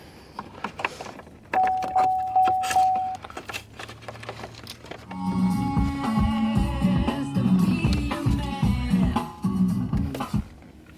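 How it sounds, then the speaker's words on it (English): Wiring connectors snap into the factory BCM of a Saab 9-5 during a remote start kit install, giving several small sharp clicks amid plastic rustling and handling close by. "we'll plug these back into the factory BCM locations. Okay, you'll hear them click"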